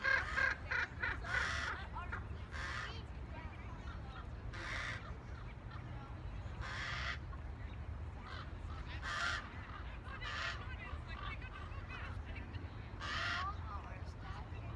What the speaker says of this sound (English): Okay, so this crow, I think it has it has maybe a strawberry.